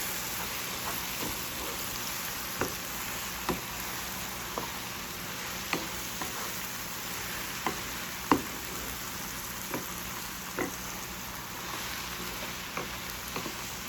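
Mushrooms frying in a pan while pepper is stirred in: a steady sizzle with scattered light clicks and taps from stirring, moderately close, no talking.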